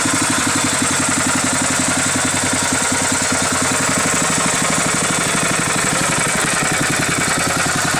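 A homemade engine-driven generator runs steadily with a belt drive and no belt tensioner, its mid-pitched engine throbbing in an even idle-like rhythm, loud and close throughout with no talk.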